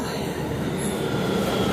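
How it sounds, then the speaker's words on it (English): A subway train rolls into a Central Harlem station, its steady loud rumble of wheels on rails filling the platform with a broad continuous roar and a faint high squeal throughout. "Train is coming. It's my train."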